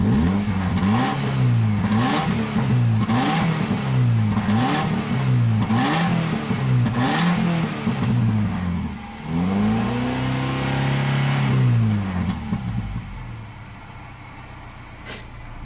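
A 2009 Subaru Forester engine at a salvage yard, running smoothly and revving up and down in a steady repeating pattern, loud and close, then settling toward idle.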